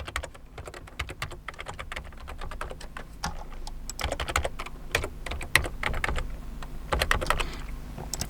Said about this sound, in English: type the password, then retype it